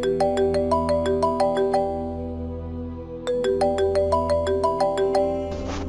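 A telephone rings with a bright, melodic electronic ringtone. Two runs of rapid tones are separated by a brief pause, loud and close with no voices.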